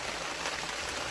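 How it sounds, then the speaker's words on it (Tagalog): Heavy rain pours down outdoors, a steady even hiss of drops with no breaks, heard fairly quietly and with no voices over it. "Lakas na yung ulan."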